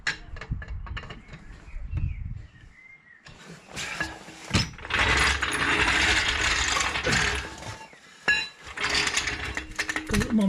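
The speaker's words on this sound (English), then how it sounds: "I'm just going to have to jack this up." Car jack being worked under the front strut of a 2009 Mercedes-Benz W204 C200, giving repeated ratcheting clicks and metallic mechanism noises in bursts, close and fairly loud, with handling knocks between strokes.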